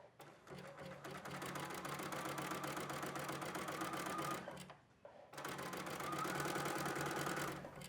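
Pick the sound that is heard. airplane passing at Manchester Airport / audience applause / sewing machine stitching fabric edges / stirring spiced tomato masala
sewing machine stitching fabric edges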